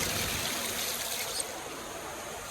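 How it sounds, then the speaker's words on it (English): Water running steadily through a dairy vat on its rinse cycle, a continuous broadband rushing hiss with a slight drop in level partway through, no voices. "Turn off the stirrer because it's just rinse cycle going through now."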